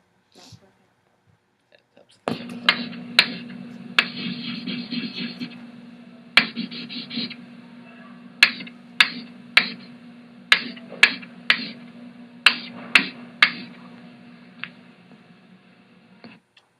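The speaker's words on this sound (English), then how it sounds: "Was it chalk on a chalkboard?" Scratchy, rhythmic scraping strokes of chalk on a board, with sharp taps between strokes. The sound is close and fairly quiet, and nobody speaks.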